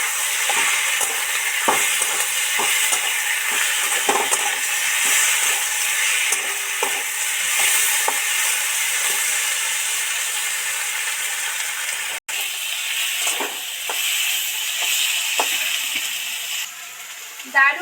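Amudi fish sizzles steadily in a hot pan while a utensil scrapes and stirs at irregular intervals. The sound is close, with no talking.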